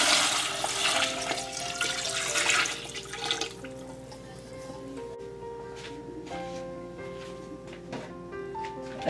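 Cold water gushes and splashes loudly into a stock pot of meat and vegetables at first, then settles into a quieter steady pour and trickle as it fills, with faint clinks throughout.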